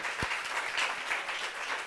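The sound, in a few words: audience applause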